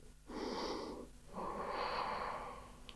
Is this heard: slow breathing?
yes